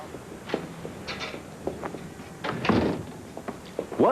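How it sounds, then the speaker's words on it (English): An office door in a TV crime drama is pushed shut, giving a few hollow thunks and a firmer closing thud among scattered small knocks and shuffles, fairly close. "Shut the door."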